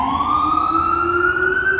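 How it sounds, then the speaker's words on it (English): A fire department ambulance siren wails steadily on an Upper West Side street, loud and continuous, slowly rising in pitch as it passes nearby. "I think it's a fire department ambulance. Yeah, it just passed behind you."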